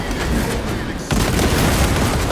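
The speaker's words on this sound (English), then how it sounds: "Using crack grenade." A crack grenade detonating in Space Marine 2 amid gunfire, a heavy boom that drops in sharply partway through and then a loud, dense roar of blasts and shots continuing to the end.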